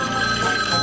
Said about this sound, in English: Boy, that phone never stops ringing.